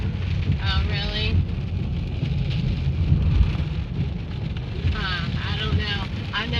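Rain pours steadily during a thunderstorm, heard while heading home, with the low rumble of thunder beneath it. People talk faintly in the background over the constant wash of the rain.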